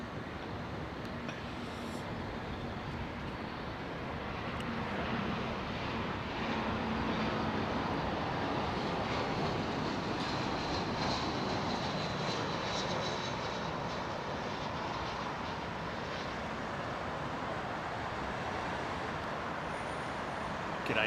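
Early morning arrivals at London Heathrow Airport: a steady, broad jet roar of approaching aircraft engines, swelling slightly midway and holding continuously, heard from a distance with faint background traffic noise and no talk.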